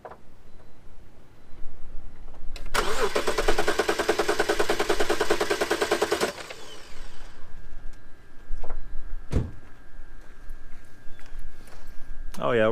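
A BMW X3 E83 engine cranks with a rapid, loud mechanical chatter for a few seconds, then catches and settles into a steady idle, outdoors in wind, with a voice speaking briefly afterward.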